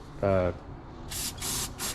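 Three short bursts of aerosol brake cleaner spray hiss close up on rebuilt engine parts, following a brief spoken phrase.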